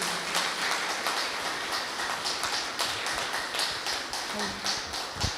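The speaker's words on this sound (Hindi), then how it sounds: "सभी जोरदार तालियों से स्वागत करेंगे।" A crowd claps steadily, a dense patter of many hands close by, sustained throughout with a faint voice briefly underneath.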